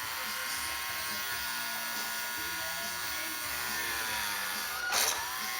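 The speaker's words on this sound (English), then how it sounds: "So let me start drilling these holes real quick." Small drill boring holes in a plastic model kit for a Revell 30th anniversary Cylon Raider, a steady high-pitched electric whine running throughout, close and fairly loud, with a brief sharper burst near the end.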